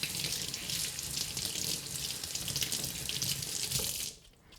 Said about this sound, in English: Just break off this corn, the corn stem, and take it in for a wash.